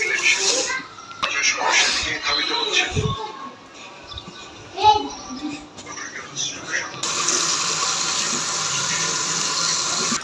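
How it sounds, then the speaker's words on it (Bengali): Fruit such as cucumber, sweet potato and banana being washed under a running tap, with water splashing in bursts and then a steady gush near the end, while a voice talks over it. "আমি ফলগুলো ধুয়ে নিব এখন"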